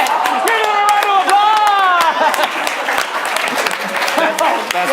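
Applause from an audience at a live main-stage show, dense and sustained clapping with whoops and shouting voices over the top throughout.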